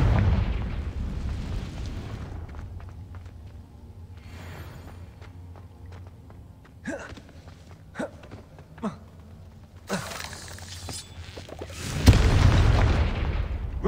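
A Confringo fire spell from the video game Hogwarts Legacy detonates with a loud boom near the end, after several sharp magical bursts and crackles over a rumbling low background.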